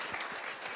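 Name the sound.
applause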